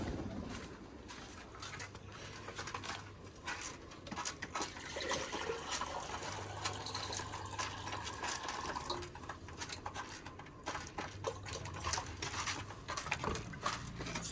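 Water poured steadily into a pigeons' drinking container, a continuous trickling fill with faint cooing from nearby pigeons in the background.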